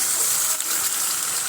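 Water gushes in a strong, steady hissing stream as it fills a container, close and loud, without pause or talk.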